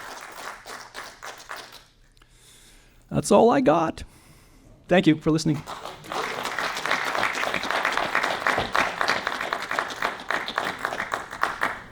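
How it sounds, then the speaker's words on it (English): Audience at an annual pollution prevention award dinner breaking into applause after a short spoken thank-you, the clapping swelling into a sustained, fairly distant roar that fills the room for several seconds. "Let's give them a round of applause."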